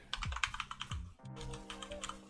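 Fast typing on a computer keyboard, with close, uneven bursts of key clicks and occasional heavier thocks that run for about two seconds without speech.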